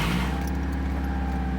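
A Subaru WRX with a fuel line leak idles and rolls out of a driveway, its engine a steady close low rumble with no voices.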